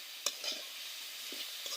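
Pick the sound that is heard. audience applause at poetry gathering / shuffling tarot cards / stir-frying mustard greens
stir-frying mustard greens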